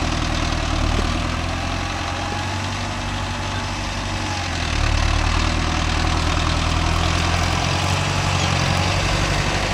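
A Mahindra Novo 605 S tractor with 16-size tyres pulls a 5-point cultivator across farmland, its engine droning loud and steady under load for the whole stretch, rising slightly midway.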